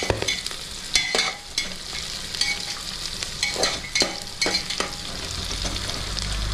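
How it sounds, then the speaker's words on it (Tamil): Onions and green chilies sautéing until golden in a pan for ghee rice, a steady close sizzle with repeated scraping and clanks from a stirring spoon, no voices. "நம்ம வெங்காயம் பச்சை மிளகாய் வந்து பாருங்கள் நல்லா வதங்கியிருக்கு."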